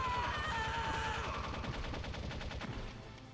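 Metal Gear Solid gunfire rattles off as a steady, rapid stream of shots at moderate distance, with a faint tonal game sound early on. The firing tapers slightly toward the end, and no one talks.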